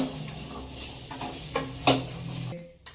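Curry leaves and dried red chillies crackle and sizzle in hot oil for tempering, with a steady frying hiss and a few sharp pops and stirring scrapes, close up.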